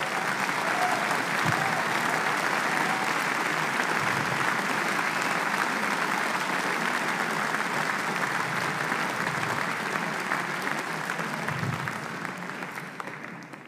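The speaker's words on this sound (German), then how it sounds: "Ich glaube, das ist noch mal ein Applaus wert." A party convention audience at the AfD federal programme congress in Stuttgart applauds in a long, dense, steady wave of clapping that stays loud throughout and only begins to fade in the last couple of seconds.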